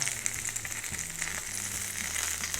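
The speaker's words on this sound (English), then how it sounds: "Ooh, the grease is popping." Burger grease sizzling and popping on a Ninja GR101 indoor grill, a steady close hiss with small crackles and low hum underneath, no voices.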